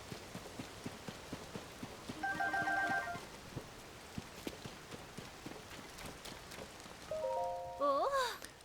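Light rain pattering steadily in the Zelda: Tears of the Kingdom video game, soft and continuous, with footstep-like taps and short chiming game tones over it.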